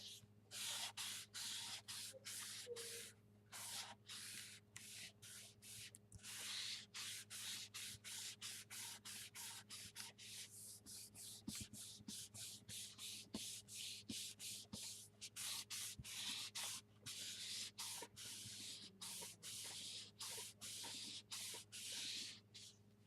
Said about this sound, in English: Rub it down. Make sure it's on there good.